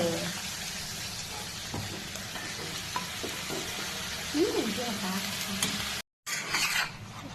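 Tomato, ridge gourd and drumstick cook in a pan for a curry, stirred with a spoon over a constant low sizzle, with occasional scrapes and clinks against the metal and a brief dropout near the end.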